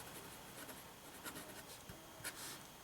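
A Waterman JIF fountain pen with a fine nib and a simple cartridge scratches faintly across paper in a quiet, steady rub, with a couple of slightly louder strokes near the end.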